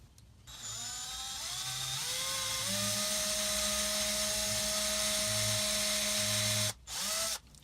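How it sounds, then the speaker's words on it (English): A small drill fitted with a 1.5mm bit bores holes into a bass guitar headstock, its motor whining up to a steady high pitch, cutting off briefly and then spinning again, close and with no talking. "And then I'll just drill in to my depth nice and easy."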